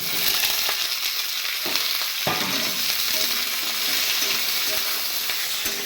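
Vegetables frying in a pan with ginger and bay leaf, a loud, steady hiss and crackle of hot oil, with a few sharp clicks and taps of a spatula against the pan, no talking.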